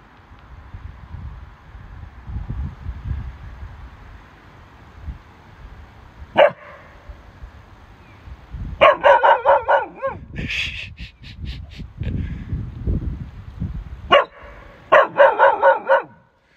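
Bernese Mountain Dog barking indoors, one sharp bark and then several loud bursts of rapid deep barks between quieter stretches, with a whine in the middle.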